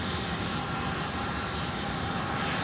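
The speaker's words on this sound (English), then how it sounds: "United States Air Force C-17," Steady broadband jet engine roar from a US Air Force C-17 Globemaster on the ground at a runway entry point at Louisville airport, continuous and fairly distant, with no voices.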